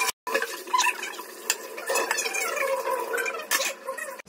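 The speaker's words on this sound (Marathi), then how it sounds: "मी पटापट भांडी पण घासून घेतली" Dishes being washed by hand in a home kitchen: clinking pots and utensils, scrubbing and splashing water, close and fairly quiet, with irregular clatters and no speech.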